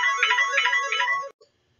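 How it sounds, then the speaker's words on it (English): A mobile phone ringtone plays in a bright, repeating electronic melody, close and clear, then cuts off abruptly, leaving silence. "of course, my phone would ring"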